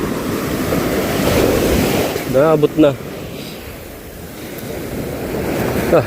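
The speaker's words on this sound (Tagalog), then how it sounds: "Malalaki ang kalbog sa gilid ng alon." Ocean surf breaking and pounding along a shoreline, with steady wind noise rushing across the microphone. Someone briefly speaks partway through, over the continuous roar of the waves.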